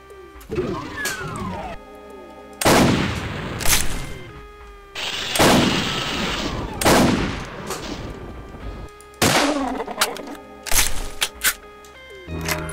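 Rifle gunfire in the Doom BorderDoom mod, loud repeated shots about every second or two, each a sharp crack with a ringing tail, amid game music and effects.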